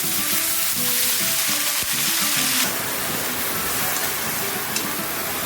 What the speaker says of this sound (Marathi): आता यात लसूण घालून घेऊयात, तेल तापलेलं आहे आपलं